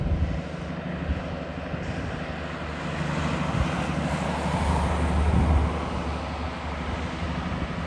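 Heavy truck with an ISX engine climbing a hill, a deep sustained engine drone mixed with wind buffeting that swells louder toward the middle and then fades slightly.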